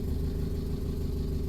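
A 1955 Austin A40 Cambridge engine idles after a cold start on a very cold day, with an even low rumble and light mechanical clatter close by and no talking.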